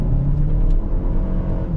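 A front-wheel-drive 2021 Buick Envision accelerating hard, with a loud, steady engine drone and low road rumble heard close from inside, without any talk.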